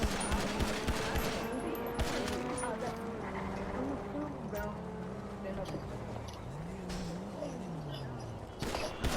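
Rapid bursts of gunfire with many rounds fired in quick succession, crackling steadily throughout under overlapping talking voices.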